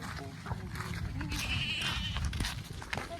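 Goats bleat several times on an integrated farm, with wavering cries rising over a busy background while people talk nearby.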